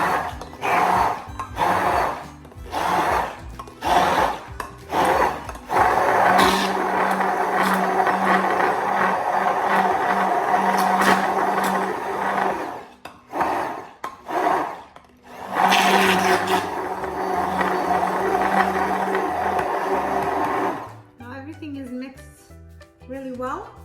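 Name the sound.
blender running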